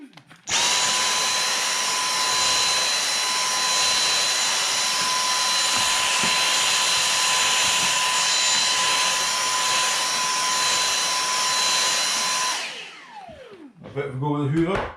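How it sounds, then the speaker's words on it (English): A vacuum cleaner runs at full power as it cleans the heatsink of a Philips PerfectDraft beer machine. The loud, steady roar with a constant whine cuts off near the end, followed by a brief voice. "a bit of a go with the hoover"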